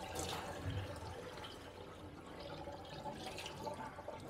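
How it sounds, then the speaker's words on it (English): Running water rinses pork ribs at a kitchen sink, a steady, fairly faint splash and trickle with no speech over it. "Pull them out and then give them a good rinse."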